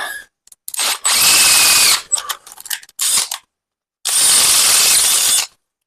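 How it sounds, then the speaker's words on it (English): A power drill bores through a part while a Ibex TX45 drum mower is assembled. It whines loudly and close in several bursts of differing length, separated by short pauses and brief clicks. "This drill's getting hot."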